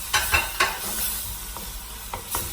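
Chicken breast cooks in a pan for Filipino-style spaghetti, a low sizzle with several quick scraping stirs spaced across a couple of seconds.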